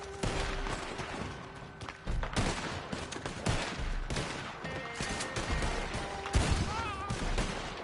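Rapid gunfire in the Western online game Red Dead Online, with repeated shots and volleys cracking throughout, some overlapping into bursts, amid game ambience and occasional distant voices.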